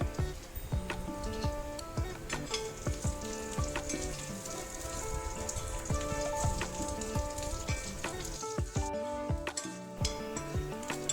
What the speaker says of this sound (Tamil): இப்போ நம்ம கிள்ளி வச்ச மிளகாய் சேர்த்துக்கலாம்.